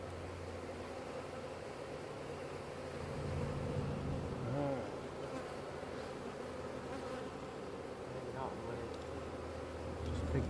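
A swarm of honey bees buzzes steadily and continuously up close, with a few individual bees droning past more loudly now and then.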